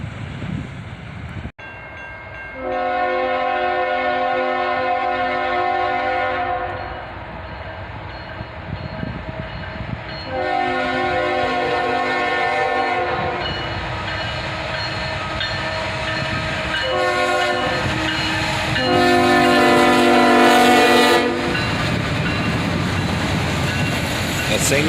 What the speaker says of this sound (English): the end of this Autorack train goes by us